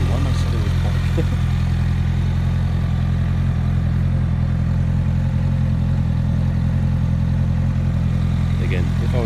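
A Honda CBR1100XX Blackbird motorcycle engine running close by, a loud, steady, deep droning rumble with a constant low throb and some mechanical clatter.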